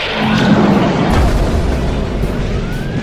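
A torpedo strike in a sci-fi space battle erupts as a loud, sustained explosive roar with a sharp burst near the start, then a rumbling wash that holds for about three seconds with no speech.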